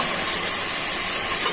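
Pieces of bottle gourd hit hot spices in a pan and sizzle, a loud, even, steady hiss close up with no talk.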